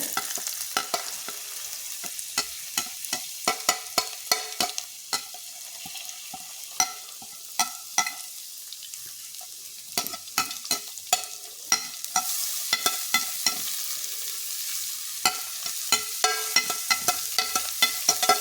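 Chopped vegetables frying in a pan for a variation of upma, stirred steadily with frequent sharp scraping clicks of the spoon over a soft continuous sizzle, no voices.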